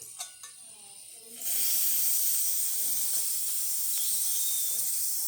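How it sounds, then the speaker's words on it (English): The steam wand of a freshly serviced La Pavoni Europiccolo espresso machine opens after a couple of small clicks and releases a loud, continuous, close hiss of steam that holds steady for several seconds. "So let's test the steamer."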